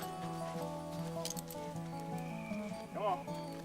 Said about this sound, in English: most valued co-workers are two highly trained draft horses